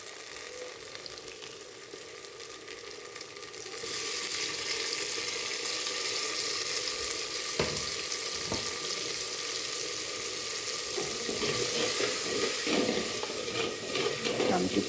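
Tomato puree goes into spice masala frying in oil, setting off a loud, steady sizzle that jumps up abruptly a few seconds in and keeps hissing, with faint stirring clatter.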